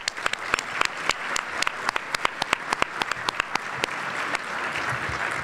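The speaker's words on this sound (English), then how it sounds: "Round of applause for them." Audience applause at a mayor's diversity awards luncheon, a dense steady patter of many hands with sharper individual claps standing out, moderately loud and continuous throughout.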